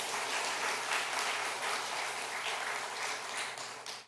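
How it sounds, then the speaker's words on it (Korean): A church congregation claps steadily in sustained applause, filling the space evenly before tapering off at the end. "박수 한번 칠까요?"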